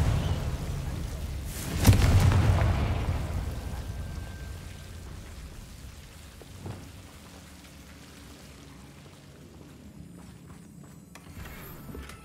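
A Confringo fire spell from Hogwarts Legacy erupts in one loud booming blast that rolls off into a long fading rumble, followed by a fainter crackle in the quiet.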